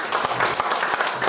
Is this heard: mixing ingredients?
no